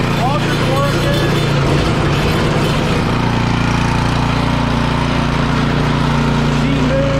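A Cub Cadet snowblower engine runs steadily with its auger turning, a loud continuous mechanical drone with a throbbing low hum, while someone talks briefly over it early on.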